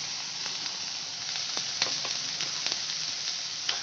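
Carrots and beans sautéing in oil, a steady close hiss of frying with occasional faint crackles and stirring taps.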